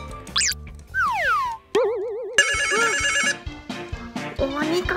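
An Anpanman toy smartphone app plays an incoming-call ringtone of bright electronic chimes, with sweeping and warbling synthetic tones and bouncy effect sounds in a busy, loud sequence.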